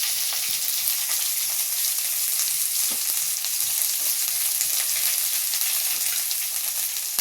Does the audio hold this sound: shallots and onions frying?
yes